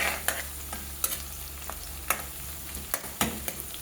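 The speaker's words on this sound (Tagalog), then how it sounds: "Na magigisa muna ng sibuyas, magigisa ng bawang, ng luya, ganyan" Onion, garlic and ginger sauté in a pan for wild boar adobo, with a soft background sizzle broken by several sharp spatula scrapes and clinks against the pan, close by and without talk.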